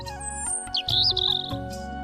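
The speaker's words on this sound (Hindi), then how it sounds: "अरे वो तो पंछी हैं बेटा, उनकी भाषा तू कैसे समझ सकती है?" Birds chirp and tweet in quick, bright bursts close by, repeating across the moment over a soft, steady tonal background, with no one speaking.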